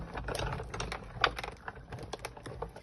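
A worn Big Shot die-cutting machine cranking glimmer paper through, giving a quiet run of rapid, uneven mechanical clicks and ticks close up, with one sharper snap partway through and no voice.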